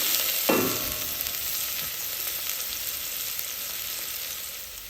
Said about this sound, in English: like 2 tablespoons of oil, just so I can saute my onion